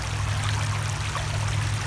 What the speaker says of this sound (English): This creek is beautiful.